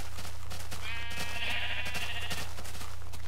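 Minecraft sheep bleat in the game, a drawn-out wavering baa rising over a constant low hum, with soft clicks and game noises scattered around it.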